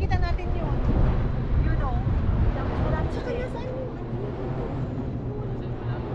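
Strong wind gusts buffet the microphone near a field of windmills in Canada, a loud continuous roar with someone talking over it throughout.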